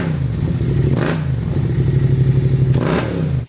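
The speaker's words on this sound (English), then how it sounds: "that MT-07 with that 689cc liquid-cooled CP2 engine, it's no Honda NX500. It's raunchy, it sounds amazing with a good pipe." Yamaha MT-07 with its 689cc liquid-cooled CP2 parallel-twin engine and aftermarket exhaust, running steadily close by with a throbbing low drone and two brief rising surges of revs.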